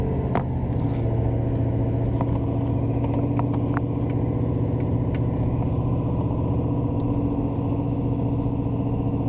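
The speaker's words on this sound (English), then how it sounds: "Dude is flying up the hill in my little Tacoma." A small Toyota Tacoma pickup with a light load climbs a hill at speed. Its engine gives a steady, close mid-range drone and rumble, with a few brief clicks and knocks on top and no talking.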